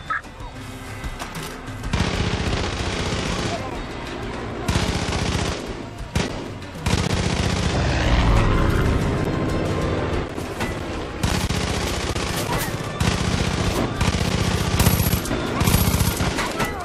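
Automatic gunfire in the video game Far Cry 5, dense rapid bursts with loud explosive crackle, nearly continuous over a busy game soundtrack, pausing briefly before resuming.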